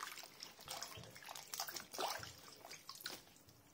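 Hawthorn berries are rinsed in a basin of water, with faint, close sloshing, trickling and dripping that rises and falls in short splashes.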